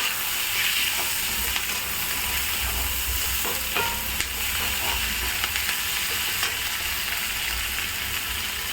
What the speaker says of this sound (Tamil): இதையுமே நல்லா வதக்கிக்கணும்